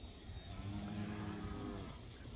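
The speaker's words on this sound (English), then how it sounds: "So you'll see the cattle begin to move into this next break here." Cattle on a winter stockpiled pasture give a long, low moo, faint and somewhat distant over quiet outdoor background.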